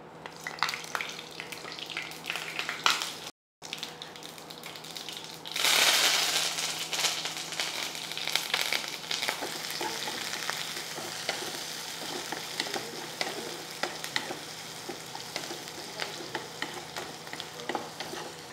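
Mustard, cumin and fenugreek seeds crackle and sizzle in two tablespoons of hot oil for a tomato curry, a steady close frying hiss with a louder surge partway through and scattered pops and stirring scrapes.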